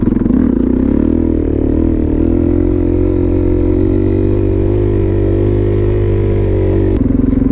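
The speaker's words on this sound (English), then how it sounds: "I didn't say I wouldn't do any wheelies though." A Suzuki DRZ supermoto engine revs loud and close during wheelies, a steady buzzing drone that rises slowly, then cuts off sharply near the end.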